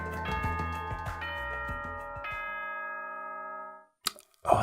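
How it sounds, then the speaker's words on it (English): Danganronpa 2: Goodbye Despair school bell chime, a sequence of ringing bell tones that overlap and then fade to silence, followed by brief scuffling noises. "Was that a school bell just now?"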